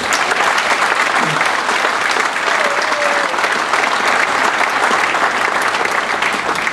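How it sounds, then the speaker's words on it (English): Passengers aboard a Thomson Celebration Caribbean cruise ship give loud, sustained applause, an even wall of clapping throughout with faint voices mixed in. "let's give them a big round of applause as well."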